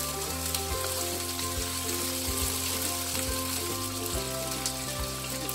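Chicken sambal with tomato fries in a pan, a steady close sizzle throughout with soft scrapes of stirring and no talk.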